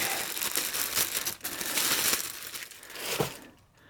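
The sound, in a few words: plastic packaging being removed from ultrasonic jewellery cleaner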